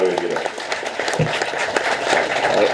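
An audience claps to welcome director Vetrimaaran at a public event, a dense continuous patter of applause with a voice speaking over it.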